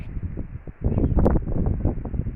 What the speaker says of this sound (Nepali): अब हावा फेरि आयो